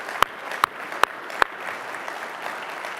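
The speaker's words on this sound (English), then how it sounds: "Let's give them a round of applause for your willingness to serve" An audience at a summer leadership meeting gives a round of applause, heard as a soft wash of distant clapping punctuated by four sharp, evenly spaced nearby claps that then fade out.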